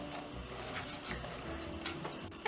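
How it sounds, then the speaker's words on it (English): A spoon scrapes and rubs through a cheesy white pasta sauce with sprinkled garlic powder in a pan, soft repeated stirring strokes with small clinks, close and quiet, with no voices. "Now stir it again."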